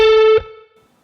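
A single distorted electric guitar note is bent and held plainly, ringing loud and steady for a moment before it is cut off and fades quickly into silence.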